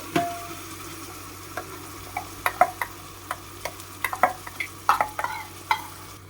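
A spoon works spice paste into mushroom biryani in a pan, giving a run of sharp, irregular scraping clicks and taps over a faint sizzle, close up with no voices.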